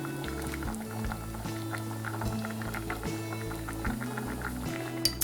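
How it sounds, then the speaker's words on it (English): Rhubarb jam simmering in a pot, a steady low bubbling murmur with soft irregular pops running throughout, close and moderately loud. "So we kind of keep it at a simmering right now."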